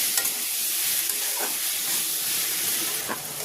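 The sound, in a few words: frying and stirring ginger and tomato in a pan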